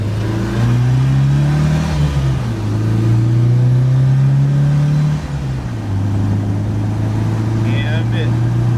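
An MGB car drives along, its engine note rising and falling as it accelerates and shifts. Engine noise stays steady in the background while a voice speaks over part of it.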